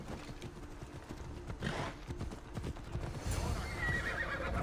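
A horse in the video game Assassin's Creed Odyssey whinnies loudly and gallops, hooves drumming in a steady clip-clop that swells nearer toward the end, with no talk.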